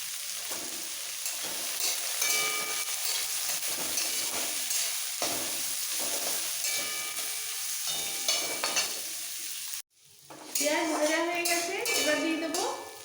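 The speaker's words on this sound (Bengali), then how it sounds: "ভেজে নিতে হবে ভাজাটা তাড়াতাড়ি আর ভালোভাবে হওয়ার জন্য দিয়ে দেবো এক পিচ মতো নুন" Onions fry in oil with a pinch of salt, giving a continuous close sizzle under occasional stirring scrapes, then a brief pause and a short burst of louder, clattering, tonal sounds at the end.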